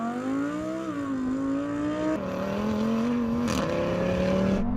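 An Audi R8 and a TT RS-R accelerate hard in a drag race, heard from inside a car. A strong engine note climbs steadily, interrupted by two quick gear changes, and each shift drops the pitch before it rises again.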